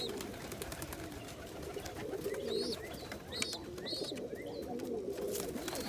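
Crested homing pigeons coo softly in a low, repeated rhythm, with a few brief higher squeaks mixed in, faint and close in a quiet loft.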